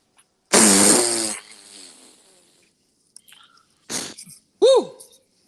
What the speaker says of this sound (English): That's a beautiful fart.